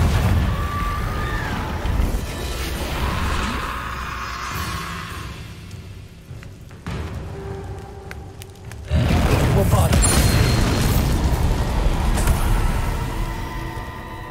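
Loud magical blast from the Confringo spell in the Hogwarts Legacy video game, a sustained roaring burst that dips briefly then swells again with renewed force, dense rumbling low end throughout.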